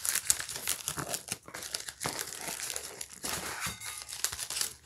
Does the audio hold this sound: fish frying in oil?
no